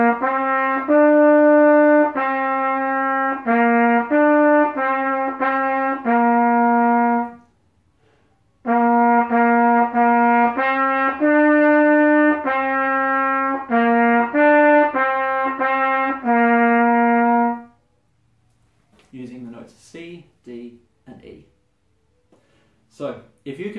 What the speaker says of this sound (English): We will definitely be doing Au Clair de la Lune from Accent on Achievement